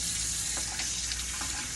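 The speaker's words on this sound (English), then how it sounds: "So I'm going to rinse these off." Running tap water splashes steadily into a sink, a continuous hiss with small irregular spatters as king crab legs are rinsed beneath it.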